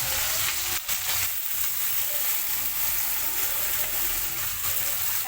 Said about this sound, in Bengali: বেরেস্তাটা ভেজে নেব এখানে।